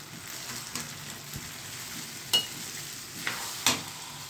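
Sago pearls are stirred in a pan of hot oil for sabudana and potato khichdi, giving a steady soft sizzle with scraping stirs and a few sharp spoon knocks against the pan.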